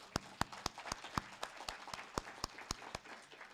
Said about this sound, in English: please help me give one more last round of applause to Sarah.